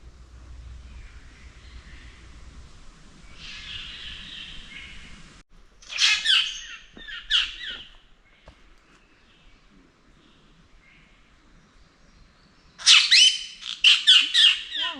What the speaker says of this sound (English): So take a seat and listen to the bird sounds.